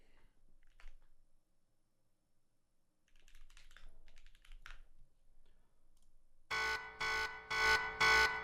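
A buzzing electronic alarm sound effect plays in four loud, evenly spaced pulses near the end, after faint clicking that resembles keyboard typing.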